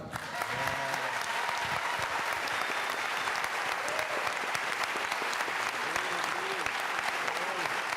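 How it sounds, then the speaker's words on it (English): A lecture audience at the University of Houston applauding the university system's chancellor, loud sustained clapping with scattered voices and cheers mixed in. "would you please allow and applaud the Chancellor of the University of Houston System, John Rudley"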